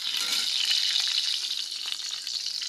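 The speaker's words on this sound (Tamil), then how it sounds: "ஒரு பாத்திரத்தில் கொஞ்சமாக எண்ணெய் விட்டுக்கொள்ளுங்க அதுக்கு கொஞ்சமாக கடுகு போட்டுக்கொள்ளுங்க கடுகு பொறிஞ்சதும்" Mustard seeds splutter in a small amount of hot oil in a pan for tempering, a bright, steady crackling sizzle with rapid popping bursts close up, with no talk.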